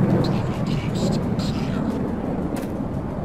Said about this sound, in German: Da fliegen schon Jets rum.